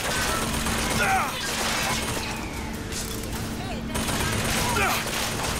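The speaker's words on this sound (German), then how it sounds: "Ich höre doch schon wieder Schüsse." Gunfire in the video game Bioshock Infinite, scattered bursts of shots and crashes in a busy game mix, heard under someone talking in German.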